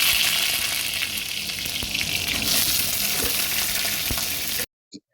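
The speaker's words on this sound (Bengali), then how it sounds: "চলো বেগুনটা ভেজে নিই।" Eggplant pieces fry on a high flame, making a loud, dense, steady sizzle up close that cuts off abruptly, followed by a faint knock.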